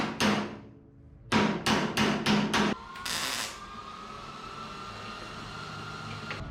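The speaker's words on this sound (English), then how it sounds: "I'm gonna hammer this a little flatter right here on this cut" Metal hammer blows on the cut edge of a 1963 International Harvester Loadstar truck hood: one strike, a pause, then a quick run of five sharp ringing hits and a final heavier clang, close and loud in a workshop.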